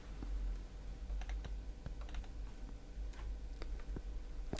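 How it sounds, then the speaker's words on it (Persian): Fingers type on a computer keyboard in a steady run of small clicks and taps, close and fairly quiet over a low background hum. "باید تایپ کنم چون انگشتان دستم به خوبی حس ندارم"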